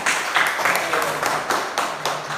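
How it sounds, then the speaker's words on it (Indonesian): A classroom of students claps for a classmate, a series of rhythmic, moderately loud hand claps in steady bursts, fairly close, with faint voices underneath. "Oke, tepuk tangan dong buat Sipa ya."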